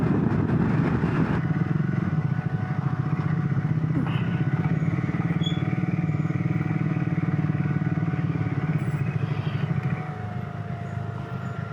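Motorcycle riding on a road trip out of Pune, with a steady, continuous engine and wind roar that holds up close throughout, without any pauses.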